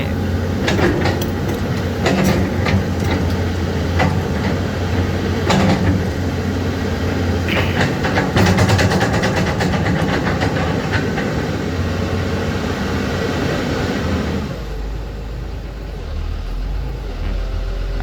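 A CAT 320 DGC excavator engine running at light load with its revs freshly set, a steady loud diesel drone with mechanical clatter and rattling throughout, dropping to a deeper, smoother idle rumble near the end.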